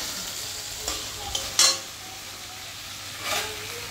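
A Bengali curry in a frying pan, with water added for the gravy, sizzles softly and steadily while a spoon stirs and scrapes, giving a few brief clinks and one sharper scrape.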